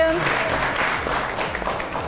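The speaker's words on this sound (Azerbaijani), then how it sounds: "özünüz-özünüzü alqışlayın" A crowd applauds itself, dense steady clapping that fills the whole stretch at an even, fairly loud level with a hint of voices mixed in.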